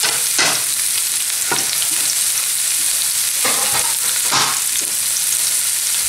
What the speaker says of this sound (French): je mets de l'échalote émincée dans cette huile